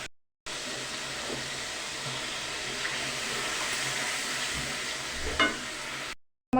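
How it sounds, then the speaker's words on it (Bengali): Prawns with onion, green chili and chili powder fry in a hot pan, producing an even, steady hiss of sizzling oil with a few faint scrapes of stirring, close up and without speech. "এখন এর মধ্যে চিংড়ি মাছটা দিয়ে ভালোভাবে কষিয়ে নেব।"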